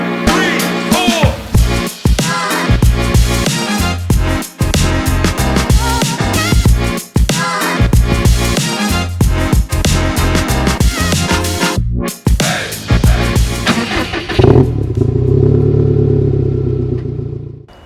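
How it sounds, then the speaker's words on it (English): A 2015+ Subaru WRX STI with equal length headers revs loudly and close through its exhaust in repeated bursts with brief drops between, then settles into a steady, smoother idle for the final few seconds. "play some sound clips of equal length headerness"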